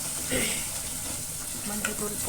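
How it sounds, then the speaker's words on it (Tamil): Turmeric powder sautéed in hot oil in a pan for Kerala-style sardine curry, a steady close sizzle with occasional stirring scrapes, fairly even in level throughout. "இது போட்டு நல்லா வதக்கி விட்டுட்டு மசாலா போட்டுக்கலாம்"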